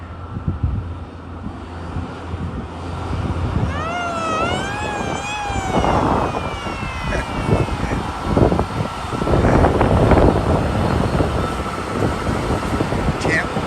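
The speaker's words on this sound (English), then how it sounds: "And a little weird siren noise." A Loram rail maintenance train's wavering siren rises and falls several times over heavy rumbling ballast-cleaning and tamping machinery, then fades as clanking and engine noise continue.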